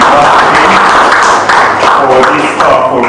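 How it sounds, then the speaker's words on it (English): A conference audience applauds in a dense, close wash of clapping that holds steady for several seconds and only slightly thins toward the end. "A very big round of applause"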